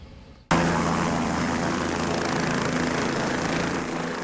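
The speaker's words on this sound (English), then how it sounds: "The Onondaga County Sheriff's helicopter flying high above Onondaga County" The Onondaga County Sheriff's Air One helicopter cuts in abruptly with a loud, steady engine and rotor roar that holds constant and close, with no speech over it.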